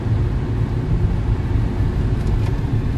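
A SsangYong Super Rexton driving and accelerating, its engine giving a steady deep rumble and road drone from inside the cabin, continuous and fairly loud with no speech.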